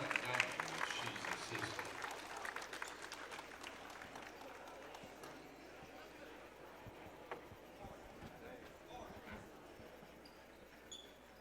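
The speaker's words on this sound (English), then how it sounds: "Round of applause for Shuna Dang, she's assistant." A gym crowd applauds for an injured assistant coach during a girls' high school basketball game, Brossart vs DCA at the All A Classic, with sustained clapping and crowd noise that slowly fades.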